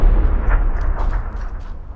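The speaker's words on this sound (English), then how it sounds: "There's a grenade." A grenade goes off in the online shooter PUBG, a heavy booming blast filling the whole clip with a loud, rumbling low end and no talk over it.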